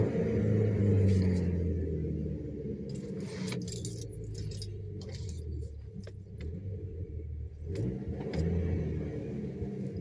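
An Audi TT MK2 starting up and settling into a steady, deep idle rumble with slight swells in revs, close by, a little jingling of keys, and no talking.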